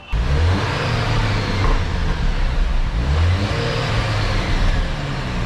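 A Jeep Wrangler Rubicon engine with stock exhaust runs steadily up close, with a low exhaust rumble that briefly rises in pitch as it revs, no voices.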